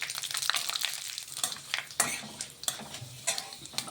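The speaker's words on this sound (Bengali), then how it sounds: "এবার আমি এটা রাঁধুনি আর মেথিটাকে ভালোভাবে ভেজে নিচ্ছি" Fenugreek and radhuni seeds fry in hot oil in a pan, sizzling steadily while a spatula scrapes and stirs with irregular sharp clinks, close and fairly quiet.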